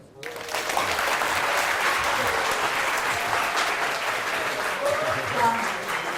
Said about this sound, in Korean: 좋은 강의를 위해 현장에 내셔주신 박사님께 감사의 마음으로 박수.